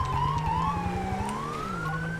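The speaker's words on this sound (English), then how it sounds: "Running sirens for no reason." A wailing police siren in the video game GTA 5 with the LSPDFR mod sweeps up and down continuously over a rumbling engine, loud and close, with no talking.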